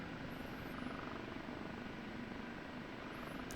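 An OH-58D Kiowa Warrior helicopter hovers in the DCS flight simulator, its steady rotor and engine drone holding at an even level throughout with no voices.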